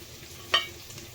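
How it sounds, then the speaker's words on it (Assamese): A single short scrape of a spatula stirring pork with mejenga leaves in a wok, quiet and close, with faint frying hiss underneath. "এতিয়া মই মাংসখিনি এখনতে কাঢ়ি লওঁ এনেকৈ।"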